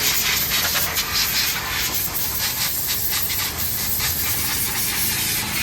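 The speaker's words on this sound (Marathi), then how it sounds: "हवा आपल्याला हवा पण मारून येते" Compressed air blows steadily during a car wash, a loud continuous close hiss with slight pulsing and no break throughout.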